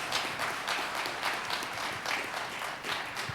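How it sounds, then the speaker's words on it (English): An audience at a town hall meeting gives a short round of applause, continuous clapping of moderate loudness with slight swells, heard for about three seconds. "let's give Desmond a round of applause, please."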